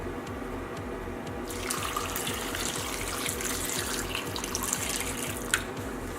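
Water running from a tap into a cooking pot for boiling potatoes, a steady splashing stream that grows fuller after the first second and a half, continuous and close with no talking.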